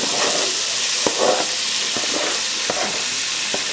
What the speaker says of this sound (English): So we're just going to go ahead on and slide our veggies in